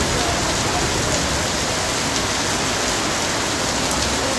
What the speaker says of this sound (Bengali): এত বৃষ্টি যে খালি ফোটা আর ফোটা, প্রচুর পরিমাণ